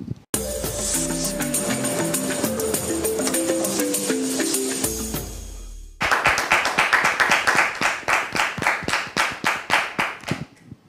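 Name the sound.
TV show applause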